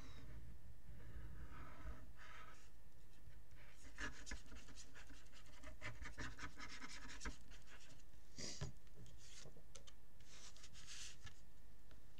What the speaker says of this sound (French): Donc là, je mets de la colle